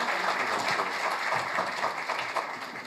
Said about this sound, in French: À vous de l'applaudir.